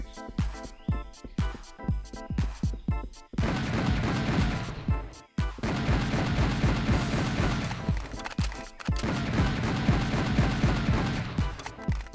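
Pistols fire in Serious Sam: The Second Encounter as rapid bursts of sharp shots, first separate cracks then dense overlapping volleys with crashing impacts, loud and close with no talking.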